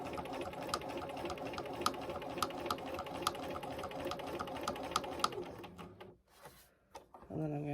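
A sewing machine stitches fleece onto foam for a puppet, a rapid steady mechanical whirr with regular needle ticks up close, then slowing and stopping near the end before a brief restart; a voice is heard faintly alongside.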